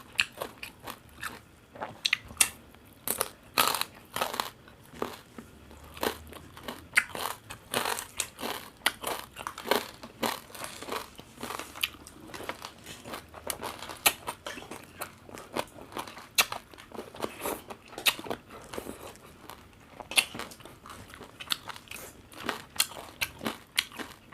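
Crispy deep-fried pork being bitten and chewed up close, with loud, irregular crunches and crackles that repeat throughout and no talking.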